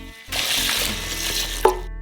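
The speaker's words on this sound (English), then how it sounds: "Pour in 2 liters of water." A steady close-up stream of water pours into a saucepan of buckwheat continuously for almost two seconds, with a small clink partway through, then stops abruptly.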